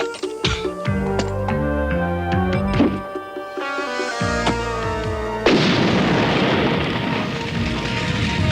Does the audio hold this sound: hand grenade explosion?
yes